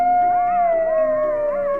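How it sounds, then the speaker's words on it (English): A single wolf howls in one long, steady, sustained note, loud and close, with slight wavers in pitch near the end and no other sounds around it. "wolf,"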